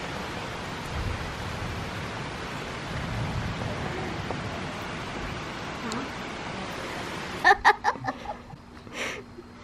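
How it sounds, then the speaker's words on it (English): Steady outdoor rain hisses in a continuous wash, with a few brief louder knocks and sounds near the end. "the rain's coming back even more"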